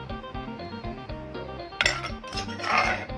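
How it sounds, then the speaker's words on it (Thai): A spoon scoops pon pla, a spicy fish dip, into a bowl, giving a few sharp clinks and scrapes of utensil against dish over steady background music. "ตักใส่ถ้วยค่ะพี่น้องใส่ถ้วยกัน"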